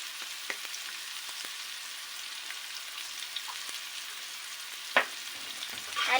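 Chicken pasta mixture being stirred in a pan with salt and black pepper gives a steady, quiet sizzle and scraping under no talk, with a sharper clack of the utensil near the end.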